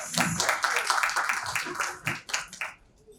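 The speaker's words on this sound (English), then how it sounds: "Please give him a big round of applause." A round of applause for a panelist at an architecture design debate in Patna, scattered clapping from a small audience that tapers into separate claps, with a voice speaking over it.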